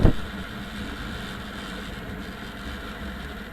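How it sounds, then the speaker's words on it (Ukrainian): A Viper 150 Chinese motorcycle engine drones steadily at full throttle, a constant buzzing roar mixed with wind rush, after a brief knock at the start. "Притиснув на всю катушку китайського мотоцикла Viper 150."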